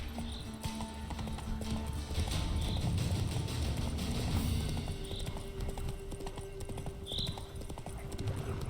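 Geralt's horse Roach galloping in The Witcher 3, with rapid rhythmic hoofbeats close and steady over game ambience and a few faint tonal cues.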